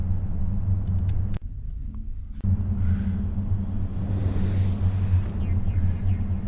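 The Mako vehicle from Mass Effect comes down on a planet's surface with a deep, continuous low rumble, broken by two sharp transient hits, then a rising whine and hum as the engine rumble carries on.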